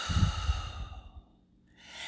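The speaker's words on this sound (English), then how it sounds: "Breathe in and breathe out." A slow, close exhaled sigh of breath fades into quiet, followed by a soft airy inhale starting near the end, unhurried and calm with no talking.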